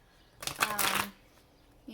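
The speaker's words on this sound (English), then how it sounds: "that was a bad shuffle" A quick riffle of playing cards, a crisp fluttering burst lasting about half a second, close to the mic, followed by quiet and a faint voice starting.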